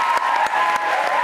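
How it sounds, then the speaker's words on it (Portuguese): Studio audience applauding a toy train locomotive on a Brazilian late-night talk show: a brief, steady wash of clapping that stays loud across its whole short span, with no voices over it. "Palmas pro trenzão"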